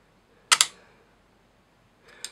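Two sharp mechanical clicks from a Polaroid Land Camera shutter close up, the first loud and doubled, the second quieter a moment and a half later, in an otherwise quiet room.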